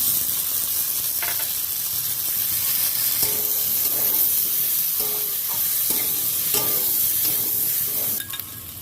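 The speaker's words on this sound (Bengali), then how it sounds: "ভিজিয়ে রাখা ছোলাগুলো অ্যাড করে দিলাম" Soaked chickpeas frying in a pan with torn green chillies, a steady close sizzle running throughout while a spoon scrapes and stirs in irregular strokes, no talking.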